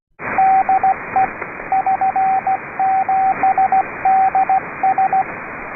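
Morse code (CW) goes out over amateur radio as a steady single-pitch tone. It is keyed in bursts of dots and dashes over loud hiss, with no voice.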